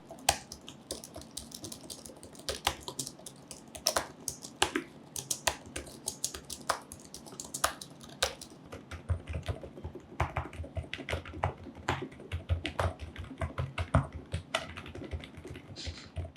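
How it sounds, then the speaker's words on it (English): Rapid typing on a NuPhy Halo V2 mechanical keyboard with Blue Max switches and on an Apple Magic Keyboard makes a close, quiet stream of irregular key clicks and taps, with no talking. "typing on this mechanical keyboard is actually quieter typing on this Magic Keyboard"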